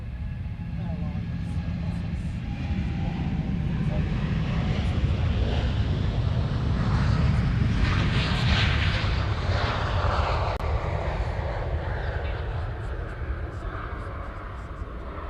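A Hawaiian Airlines jet departs Honolulu Airport, its engines making a broad, steady roar that swells toward the middle and then eases off, heard with wind noise at an outdoor spot.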